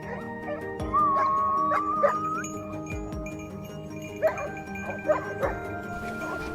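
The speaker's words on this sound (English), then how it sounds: "they erupted in frantic barking" Hunting dogs on a mountain trail, barking and yipping in scattered bursts with a drawn-out whine, fairly close, over background rumble.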